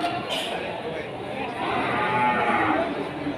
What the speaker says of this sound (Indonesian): Sapi-sapi bakalan ada limusin, ada pekon.